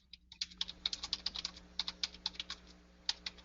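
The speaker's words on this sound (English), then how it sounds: "is it you typing?" Rapid keystrokes on a computer keyboard during a conference call, a quick uneven run of crisp clicks close to the microphone over a low steady hum, with no voices.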